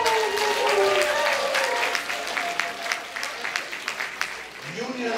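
A round of applause at a community scholarship brunch, steady clapping that fades into scattered claps, with a voice and some cheering in the room over it.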